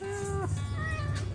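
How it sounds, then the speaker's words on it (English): A cat at a hotel in Luang Prabang, Laos gives a single loud, close drawn-out meow that bends in pitch, over a steady low background hum. "The mad attack cat's right here underneath me."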